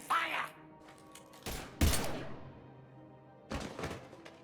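Mass Effect 3 gunfire, a few sharp heavy blasts separated by pauses, loud and close, with a brief reverberant tail after each shot.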